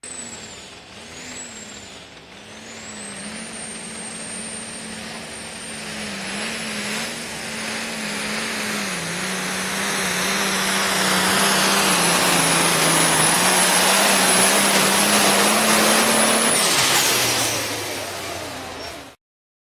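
Pack Rat pulling tractor making its winning pass at a Ravenna, Nebraska pull, a loud sustained engine roar with a high turbine-like whine that builds steadily for about sixteen seconds, then cuts off abruptly.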